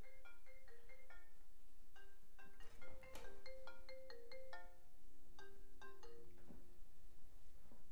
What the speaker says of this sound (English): Okay, sorry, that's my phone.